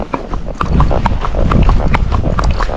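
A trotty Tennessee Walking Horse is ridden, its hooves striking the ground in a quick, steady clip-clop of close, clear hoofbeats, with faint background noise and a little talk underneath.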